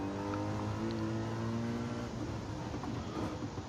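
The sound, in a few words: race car engines in video game Gran Turismo 7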